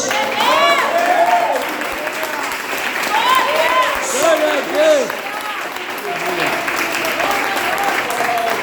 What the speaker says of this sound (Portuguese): Mas aplaudir a Jesus.